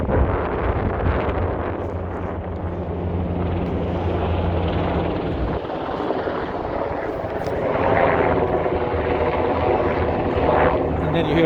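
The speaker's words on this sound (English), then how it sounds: "It's a helicopter actually." A helicopter flying over downtown Chicago during the Chicago Marathon, a steady loud rotor roar filling the street scene, broadband and continuous, with wind buffeting on the microphone.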